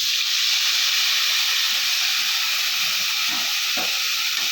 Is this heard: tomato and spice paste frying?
yes